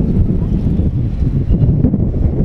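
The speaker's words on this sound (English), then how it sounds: "It's a windy one," Gusty wind buffeting a microphone outdoors, a constant low rumbling roar with no speech.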